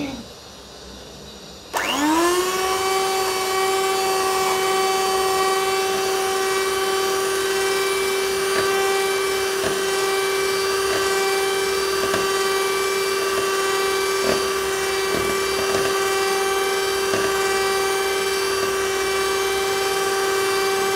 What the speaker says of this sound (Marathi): तसेच येथे मी 240 ml एवढी व्हिपिंग क्रीम घेतली आहे, ती आपण एका बीटरच्या सहाय्याने फेटून घेऊया।